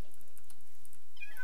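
A kitten gives a couple of short, thin meows close by, with faint light tapping in the background.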